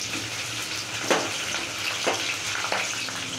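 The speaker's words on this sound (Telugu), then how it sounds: "ఉల్లిపాయ అయితే వేగిపోయింది" Onion frying in hot oil with mustard seeds, cumin, a dried chili and curry leaves, a continuous close sizzle broken by a few sharp stirring scrapes.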